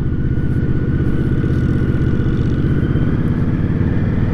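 A 2023 Indian Scout motorcycle's V-twin pulls under steady throttle in fourth gear, a loud, close, continuous throbbing drone with wind noise and no talking.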